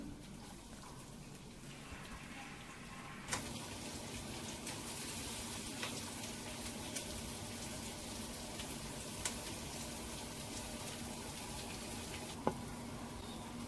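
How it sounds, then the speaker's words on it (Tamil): Steady frying sizzle of chopped onions sautéing in a pan, a continuous crackling hiss with a few sharp pops and clicks, close by and fairly quiet. "நறுக்கி வச்ச வெங்காயத்தையும் போட்டு நல்லா வதக்கணும்"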